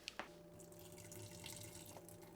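Noodle soup drains into a kitchen sink as a soft, steady trickle and splash, starting with a couple of sharp drips, fairly quiet and with no voice.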